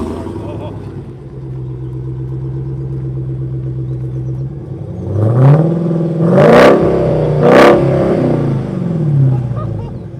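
A Dodge Challenger SRT Demon idles with a deep, steady rumble, then roars through two loud, sharp revs and settles back, close and dominant, with people talking faintly before the revs.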